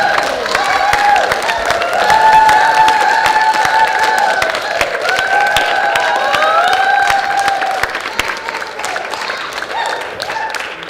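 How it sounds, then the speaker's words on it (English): An audience at a spiritual gathering breaks into sustained applause, a dense wash of clapping with cheers and some high shouts, loud and steady across the whole stretch before thinning slightly at the end. "Give her a big round of applause."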